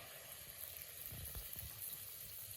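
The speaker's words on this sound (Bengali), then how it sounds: "এভাবে ছেড়ে দেবেন তেলের মধ্যে" Palm fritters (taler bora) go into hot white or mustard oil and fry with a steady, quiet sizzle. A few soft plops and bubbling bursts come near the middle.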